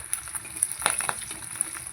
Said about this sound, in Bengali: এখনো ফুটে যাচ্ছে মাছগুলো